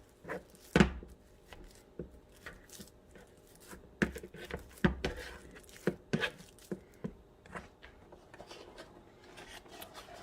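Two underripe, still-firm bananas for a keto low-carb banana bread are mashed in a bowl, producing faint, irregular soft squishing, scraping and tapping sounds close by, with no one speaking.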